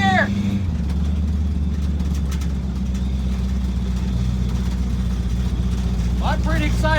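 Chevrolet Nova engine idles steadily during a TH400 transmission gear test, a low, even rumble that shifts slightly in pitch early on, with brief speech at the start and end.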